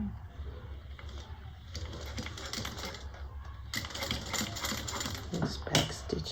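A sewing machine bastes a bag seam close to the piping, its rapid mechanical stitching chatter running steadily and close throughout, louder toward the end.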